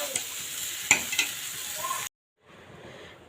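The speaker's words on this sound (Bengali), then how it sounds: "মাংসটা আমি এখন খুব সুন্দর করে কষায় নেব" Mutton for biryani stirred and braised in a pan, with close sizzling and a few sharp spatula clinks against the metal, a brief silence, then a quieter simmering sizzle.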